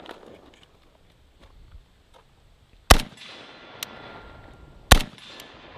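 Two sharp, loud gunshots about two seconds apart from a Zastava N-PAP AK rifle on a shooting range, with quieter ambient rustle and faint distant sounds between them.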